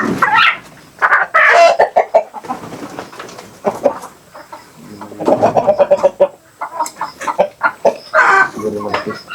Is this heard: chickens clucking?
yes